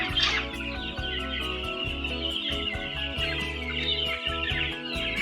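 Many chicks peep and cluck together while being fed on a farm, a busy, continuous chorus with soft pecking taps and rustling close by.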